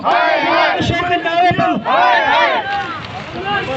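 A crowd of protesters at a Pakistan Steel Mills rally chants slogans in loud, rhythmic unison, surging voices repeating close by with brief dips between phrases.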